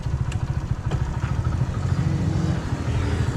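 A Hero Splendor motorcycle engine idles close by, a steady low rapid thumping putter that holds even throughout, no speech.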